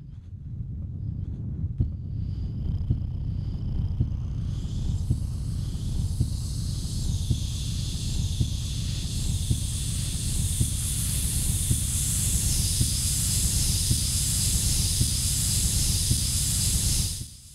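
Broadband noise covering all frequencies plays from an RC-505 loop station, a loud, steady hiss like rushing steam with a deep low rumble and faint regular pulses, brightening toward the top over time before stopping abruptly.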